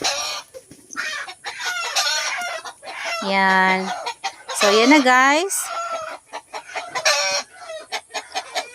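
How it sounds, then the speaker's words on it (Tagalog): A chicken that has wandered inside a house clucks and lets out a couple of loud drawn-out crowing calls, with scattered short clucks between them and a person talking briefly over the sounds. "May nakapasok guys na manok sa loob ng bahay namin."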